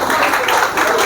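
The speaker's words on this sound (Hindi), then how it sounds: "इनके लिए तालियां होनी चाहिए।" A live audience at a motivational seminar gives a brief burst of dense applause, loud and close, lasting about a second.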